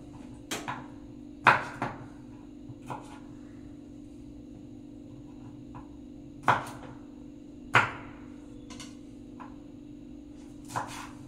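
A knife chopping two green chillies on a board: a few sharp, separate knocks spaced irregularly over a low steady hum, some close together and others several seconds apart, with no talking.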